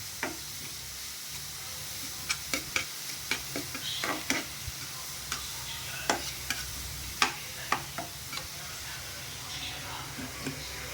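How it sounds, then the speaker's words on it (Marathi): Onions frying in a pan for egg bhurji in a small room kitchen, a steady low sizzle with sharp stirring and scraping clicks from a spatula scattered throughout, moderately faint and close. "याला व्यवस्थित एकदम कांद्याला वगैरे फ्राय करून घ्यायचं."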